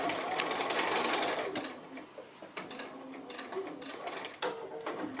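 A sewing machine stitches the seams of a fabric card wallet, its needle chattering in a rapid steady rhythm close by, pausing briefly and then starting up again.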